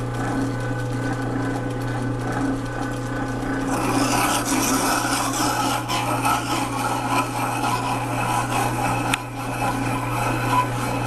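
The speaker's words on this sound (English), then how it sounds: "You can see we're grinding mainly in the center" Abrasive grit grinding a 17th century style telescope mirror, a steady continuous rasping rub that grows louder and brighter partway through, close and without pause.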